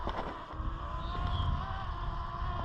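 A quadcopter drone lifts off over the open Kennebunk Plains blueberry barrens in Maine, its rotors giving a steady high whine with a rising tone, mixed with wind rumble near the microphone.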